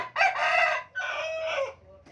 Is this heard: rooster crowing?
yes